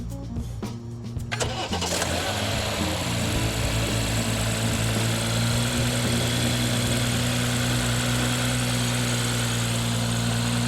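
A BMW with the B58 engine cranks and fires in the first two seconds, then settles into a steady, loud idle with a deep droning hum and even mechanical rumble that carries on close by with no voices.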